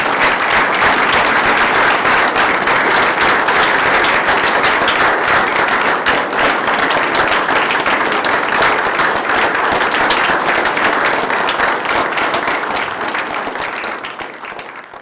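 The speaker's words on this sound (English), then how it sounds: "We need to give you a big round of applause." Loud, sustained applause from a city council meeting audience honouring a man in the room, many hands clapping densely for the full duration before tapering off slightly near the end.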